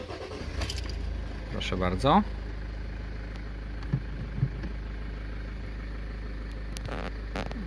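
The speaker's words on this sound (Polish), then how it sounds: "teraz odpalmy samochód" A Toyota Avensis diesel car cranks and starts, then settles into a steady low idle, with a few clicks and someone speaking briefly near the start.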